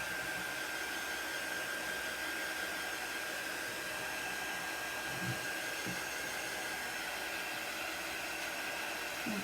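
Hair dryer blowing on chalk paste over a craft piece, a steady loud whooshing hiss with a constant whine held unbroken from start to finish.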